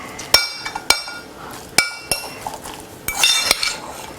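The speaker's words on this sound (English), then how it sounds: "And now you get to mix it all up." A utensil clinks and knocks against a bowl while mock tuna is mixed with nutritional yeast and Bragg's Aminos, sharp metallic taps arriving irregularly, several in quick succession, close and clear.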